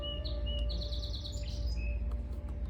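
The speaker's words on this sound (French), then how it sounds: "On peut écouter le chant des oiseaux pendant que l'eau se draine dans" Small birds chirp and trill in short, quick phrases in Quebec over a steady low rumble of background truck hum.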